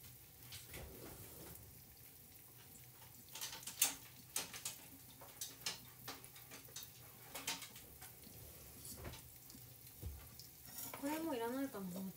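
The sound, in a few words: chashu pork frying in a pan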